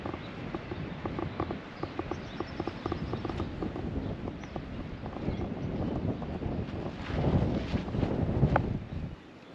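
Wind blows outside a door on a Welsh trip, a steady moderate gust noise with rattling, flapping movement and a stronger swell near the end.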